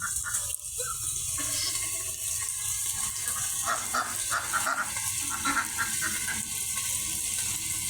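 Penned farm ducks call repeatedly to be let out during days of heavy rain, their quacks rising over a steady, dense wash of rainfall.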